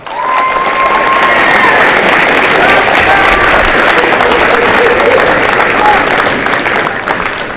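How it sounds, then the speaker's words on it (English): A crowd at a school National Signing Day football event claps loudly and cheers, with dense, steady applause and scattered shouts filling the room for several seconds. "Everybody give him an applause."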